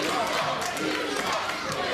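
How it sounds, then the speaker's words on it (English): Rowdy wrestling-match crowd roaring throughout, a dense steady wall of shouting and cheering from an arena audience during a Charlie Rage vs. Brett "The Kraft" Meadows bout, loud and continuous with occasional sharper yells. "And Kraft again, getting the crowd rowdy."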